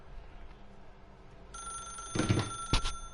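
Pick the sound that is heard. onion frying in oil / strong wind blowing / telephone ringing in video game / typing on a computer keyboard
telephone ringing in video game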